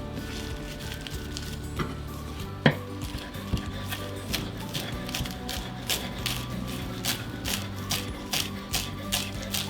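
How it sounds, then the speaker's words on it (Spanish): Fresh parsley being chopped with a knife on a board, a run of crisp, fairly close taps and knocks at an uneven rhythm over faint background hum, with no voices. "ya picamos un puñado de perejil fresco"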